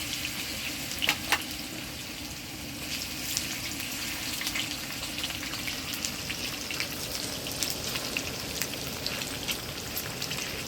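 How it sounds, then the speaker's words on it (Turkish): French fries sizzle and crackle steadily in oil at close range at a winter camp, a dense continuous fry with occasional sharper pops. "uzun zamandır patates kızartması yapmıyorduk kampta değil mi?"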